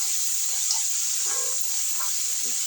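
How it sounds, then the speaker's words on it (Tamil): Citron (narthangai) pieces sautéing in hot oil for a tamarind pickle dish, a steady close hiss and sizzle running unbroken with faint stirring clicks and no talk. "நார்த்தங்காய் போட்டு வதக்கணும்"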